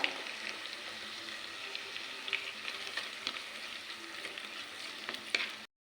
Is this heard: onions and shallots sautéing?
yes